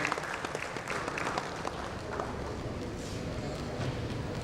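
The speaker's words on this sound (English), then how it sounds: "A big round of applause to Mani for wonderfully moderating that panel session" An audience at an insurance industry panel session claps for the moderator, a steady, fairly soft patter of many hands that continues evenly throughout.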